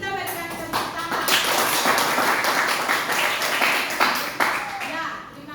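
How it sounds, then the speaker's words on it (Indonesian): A classroom of students claps for a correct answer, a burst of lively applause that swells and holds for several seconds, with children's voices mixed in. "Kita berikan tepuk tangan."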